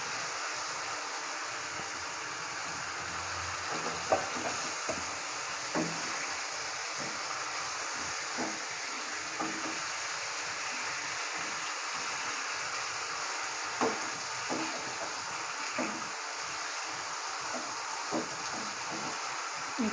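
Pangas fish head and tail fry with bitter gourd in a pan, giving off a soft, constant sizzling hiss. Small pops and ticks are scattered through it, and it stays at an even, fairly quiet level.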